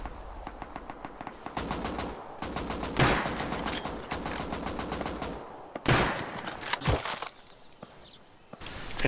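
Long-range gunfire exchange in a shooter video game, with rapid bursts of automatic fire and single shots trading back and forth, some loud and sharp, others thinner and farther off, separated by brief pauses.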